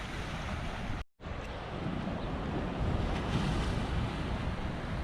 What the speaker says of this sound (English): You can see on the headland there it is a little bit choppy, some waves this morning